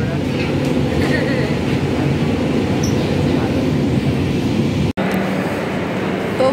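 A metro train runs on its rails as a loud, steady rumble that fills the whole stretch, with one sharp, momentary dropout near the end.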